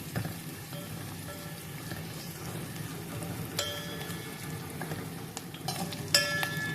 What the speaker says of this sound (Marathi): बदाम आणि काजू थोडे तळून घेतले म्हणजे ते भातामध्ये चांगले खमंग लागतात